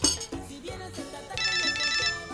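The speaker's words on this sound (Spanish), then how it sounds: "Ay, un segundo, un teléfono." A telephone rings indoors in a comedy drama scene, an electronic trilling tone pulsing in two bursts over background music and room noise.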